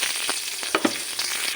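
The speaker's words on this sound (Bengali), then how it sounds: "মাছ ভাজার তেলের মধ্যে আমি ফোড়নটা দিয়ে দেবো জিরে, লঙ্কা," Cumin, dried chili and bay leaf sizzle in hot oil left over from frying fish, a steady crackling hiss with a few sharper pops, close and fairly loud with no talking.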